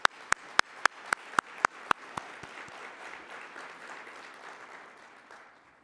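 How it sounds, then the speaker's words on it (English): Conference audience applauding board members: a few sharp, evenly spaced claps up front give way to a softer, spreading round of applause that fades out. "let's give them a round of applause"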